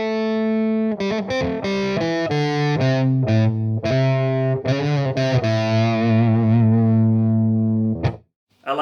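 An Epiphone ES-339 semi-hollow electric guitar with TV Jones Filtertron pickups plays through gain-driven distortion, loud chords and single notes struck in an uneven rhythm with sustained ringing tones before a brief cutoff.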